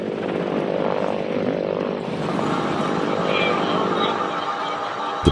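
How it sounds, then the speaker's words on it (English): A Mi-35 attack helicopter on a UN peacekeeping mission in the Central African Republic rises into the air, its engine and rotor making a loud, continuous drone with a steady tonal hum that swells slightly as it climbs. "Soon, the attack helicopter, or Mi-35, eases into the skies."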